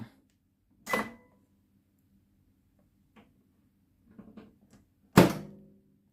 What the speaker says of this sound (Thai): จากนั้นเสียบปลั๊กไฟเปิดประตูเครื่อง